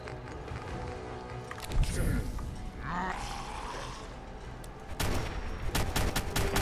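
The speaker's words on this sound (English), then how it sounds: "I had to shoot a lot there" Fallout 4 gunfire in the Far Harbor area, heard as a scattered series of loud shots and rapid bursts amid game ambience and movement noise, with a voice speaking over part of it.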